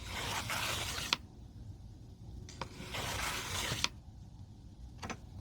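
A Nintendo e-Reader scanning a long barcode on a Pokemon card gives repeated soft mechanical whirring passes, each ending in a sharp little click, close and quiet.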